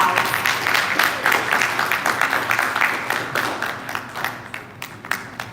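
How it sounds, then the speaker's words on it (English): An audience applauds at the close of a panel discussion on building sustainable communities, a moderate, fairly steady patter of clapping that gradually thins and softens toward the end. "Please give yourself a round of applause."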